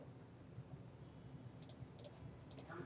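Faint computer keyboard clicks come as a few scattered light taps while pasting with a Control-V shortcut, heard quietly against low room noise.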